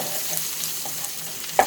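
Garlic sizzling in melted butter in a pan for asparagus, a steady close hissing fry with a few small pops and a brief utensil tap near the end.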